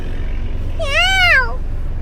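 A single clear cat meow, rising and falling, sounds close over a low steady background hum.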